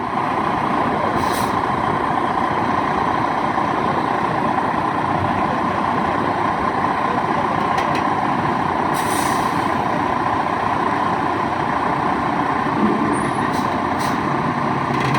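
A tractor-trailer truck parallel parking, its engine droning steadily at close range throughout, with several brief hissing bursts of air brakes.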